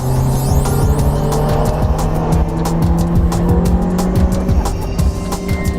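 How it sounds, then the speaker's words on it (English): A Ferrari performance car drives past or accelerates with a loud, continuous engine drone and some tire noise, heard close up without any talking. "Gene, this is a performance car that's built really for European roads."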